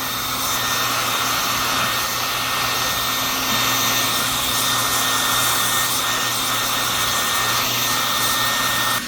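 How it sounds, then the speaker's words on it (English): A hair dryer runs steadily and loudly close by, a continuous whooshing blower roar with a constant motor whine that holds level throughout without pauses. "Do you like the hairdryer?"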